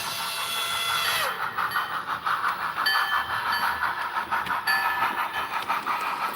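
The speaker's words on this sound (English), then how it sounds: "that's cool that they got the sounds from the actual locomotive itself" Sound recording taken from the actual SP&S number 700 steam locomotive played through a model train, giving steady rail rumble with rhythmic clatter and hiss at constant loudness.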